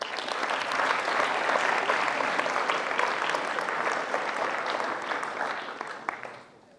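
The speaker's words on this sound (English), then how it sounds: "So I want you to give yourselves a round of applause and give it up for them as well." An audience at a University School of Nashville MLK assembly gives a full round of applause: dense, steady clapping that holds for several seconds and then tapers off at the end.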